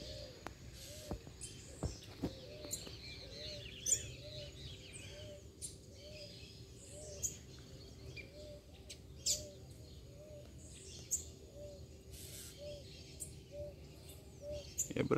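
A free-flying female collared songbird gives short, sharp chirps scattered across the clip. A soft, regular cooing pulses in the background of the quiet outdoor scene.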